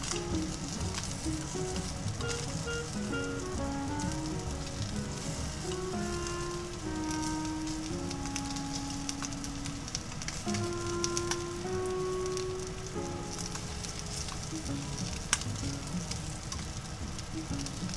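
Slices of Spam fry in a pan until crisp and browned, a steady, fairly loud sizzle running throughout beneath faint background tones.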